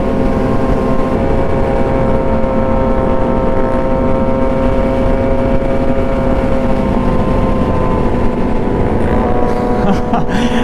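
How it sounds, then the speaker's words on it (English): A group of motorcycles rumbles together at close range in a steady, loud mix of idling and revving engines, with a short burst of sharper revs near the end and a voice talking over them. "I would be going ape shit if this many bikes pulled up to my birthday"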